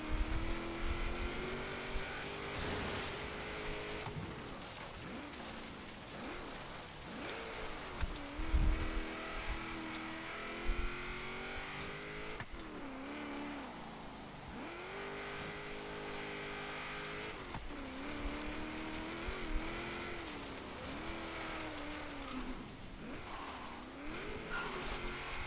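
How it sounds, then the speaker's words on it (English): A 1977 AMC Pacer X engine in Forza Horizon 3 autocross drones and revs steadily, rising and dipping with throttle, with tire squeal and wheelspin mixed in and a brief thump midway. "Barely even doing 50 mile an hour and it wants to spin its wheels and oversteer."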